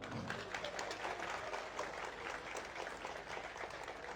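A crowd at a Malaysian political rally clapping to show their choice of candidate, a faint, steady spatter of many hands heard from a distance.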